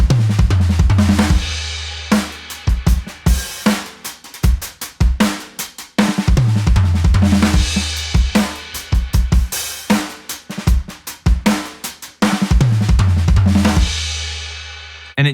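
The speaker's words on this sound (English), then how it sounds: "Fill number 5 is pretty easy. It's the 16th note idea." Close, loud drum kit works through a 16th note fill idea, dense runs of snare and tom strokes broken by heavy kick and cymbal accents, cycling several times without any voices.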